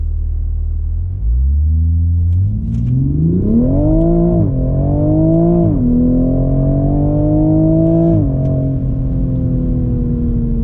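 A tuned 2020 Toyota Supra launches hard from a standstill, its engine note rising steadily through several gears with brief dips at each shift, loud and close throughout.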